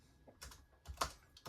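Typing on a computer keyboard: a few scattered, quiet key clicks in an irregular rhythm, close by and with no voices over them.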